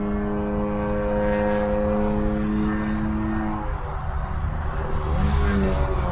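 A UMX Waco RC model biplane on 3S power flies with a continuous buzzing propeller drone, steady and fairly close, its pitch dipping and rising slightly as it maneuvers; no talking.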